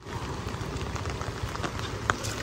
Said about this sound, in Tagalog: Wag na rin sanang maglakas yung ulan.